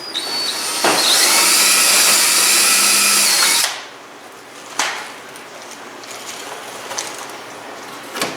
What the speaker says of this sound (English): Use a 9/32 drill bit for the push pins